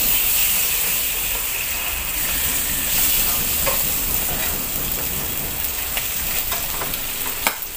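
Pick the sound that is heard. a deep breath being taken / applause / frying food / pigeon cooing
frying food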